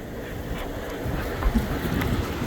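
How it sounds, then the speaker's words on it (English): Wind gusting against the microphone in a low, rumbling roar, steady and fairly loud outdoors, with no voices. "A windy day in autumn."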